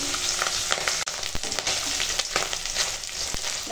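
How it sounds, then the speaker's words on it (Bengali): Fish swim bladder (tel potka) fries steadily in hot oil with a loud continuous sizzle, broken by sharp intermittent pops and crackles; no voices. "দেখো এখন তেল পটকাটা ভাজা হয়ে গেছে, এবার তুলে নেবো।"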